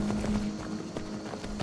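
Horse hooves galloping in Skyrim, a steady run of soft thudding beats under a low hum of game ambience, moderately close.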